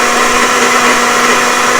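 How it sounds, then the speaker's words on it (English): A blender runs continuously at high speed, liquefying hot butter chicken sauce. The loud, close, unbroken whirring motor hum stays at a constant pitch with no voices. "we're gonna blend part of the mixture because it's hot"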